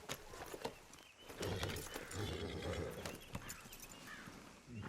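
Horse hooves clip-clopping at a steady trot-like rhythm in the Red Dead Redemption video game, fairly close, with brief snorts over outdoor ambience and no talk.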